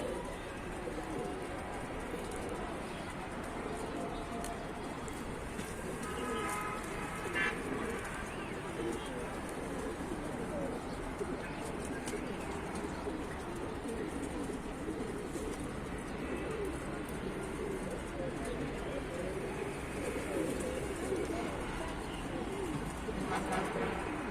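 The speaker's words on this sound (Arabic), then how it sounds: "حمام اهو يا رجالة." Pigeons sold from a loft in Tanta fill the space with a steady, overlapping chorus of low coos lasting the whole stretch, close and even in loudness, with occasional faint higher calls.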